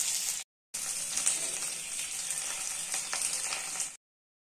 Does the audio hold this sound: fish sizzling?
yes